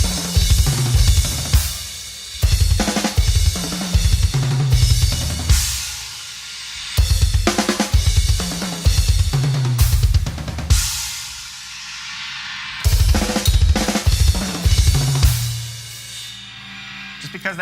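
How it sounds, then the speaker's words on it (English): Double bass-pedal drum groove played in four-note kick groups, a crash cymbal struck on the first kick of each phrase; loud, close rolling kicks with bright cymbal splashes repeating in punchy bursts. "I like to add a cymbal to the first kick of the phrase."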